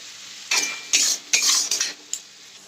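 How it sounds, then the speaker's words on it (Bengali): Lightly frying carrots are stirred in a pan, giving about five bright scraping strokes of the utensil close up over a faint sizzle. "আর দেখো আমার গাজরটা হালকা হালকা ভাজা হয়ে এসছে"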